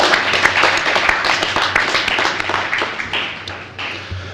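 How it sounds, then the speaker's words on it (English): Audience at a high school honors ceremony bursts into steady, loud applause, dense overlapping clapping that fills the room and tapers slightly toward the end. "Let's give everyone here a round of applause real quick"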